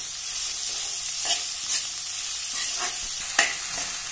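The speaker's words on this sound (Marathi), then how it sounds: "कांदा आपण गोल्डन कलर येईस्तवर परतणार आहोत" Onion with ginger and garlic being sautéed in a pan until golden, giving a steady low sizzle broken by a few sharp scrapes and taps of the spatula, no one speaking.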